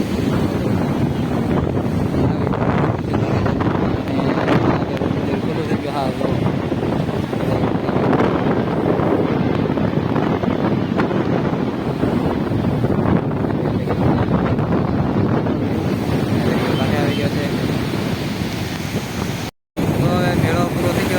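Strong wind blows across the microphone at a crowded seaside fair held on the shore for the Bhadarvi Amas new-moon festival, a loud continuous rumbling buffet with surf and voices mixed underneath, briefly cutting out near the end.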